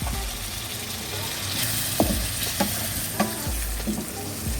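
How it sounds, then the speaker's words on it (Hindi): Chopped tomatoes fry in oil for chicken karahi while a spoon stirs them, giving a close, continuous sizzle broken by several distinct scraping knocks against the pot. "टमाटर के साथ भी 2 मिनट से भूनना अच्छी तरह"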